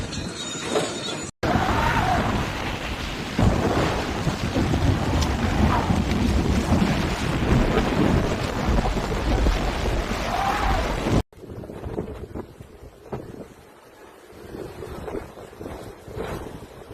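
Hurricane Melissa lashes Jamaica's southern coast with loud, roaring wind that buffets the microphone in heavy gusts, broken by abrupt cuts, with a quieter, gustier stretch at the end and no voices.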